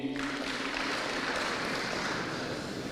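Audience clapping for Musingu students at a Kakamega school gathering, a dense, steady wash of applause close by that holds for the whole stretch, no voice over it.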